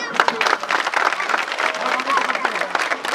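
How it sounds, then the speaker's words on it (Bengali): Applause from players and spectators at the closing ceremony of a union football tournament final, a dense crowd clapping steadily throughout at moderate loudness. "এই জন্য আপনাদেরকে আমার পক্ষ থেকে একটা জোর হাততালি"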